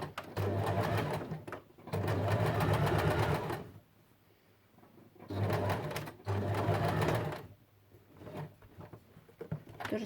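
A sewing machine runs in two long bursts, stitching a seam parallel to a zipper while making a removable pillowcase for a crib bumper, its rapid steady needle rhythm loud and close with quiet pauses between runs.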